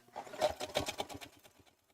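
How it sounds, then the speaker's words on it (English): Sewing machine stitching around a fabric-wrapped rope edge on a machine embroidery piece, a short run of fast, close stitches with a steady rhythm that slows and fades at the end, heard alone. "we're going to sew right up to about here till it's all joined together"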